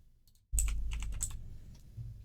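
A short burst of rapid keystrokes is typed on a computer keyboard after a moment of near silence, the clicks close and fairly crisp, with no voices.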